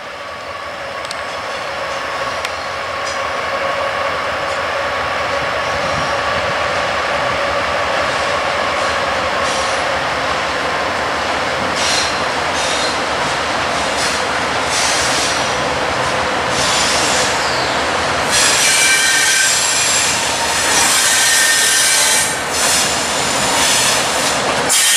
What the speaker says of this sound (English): Let's see if this is really going to be a pretty big train.